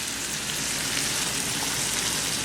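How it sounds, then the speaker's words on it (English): Corn, jalapenos, mushrooms and onions fry in a pan with a dense, continuous sizzle, close and fairly loud, and no voices are heard. "So we're just going to cook it until the onions are nice and tender."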